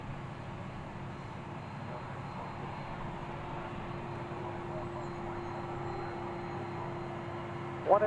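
Steady broadband roar of a Boeing 767-300 jet at DFW Airport at night, constant and distant throughout, with a brief louder burst at the very end.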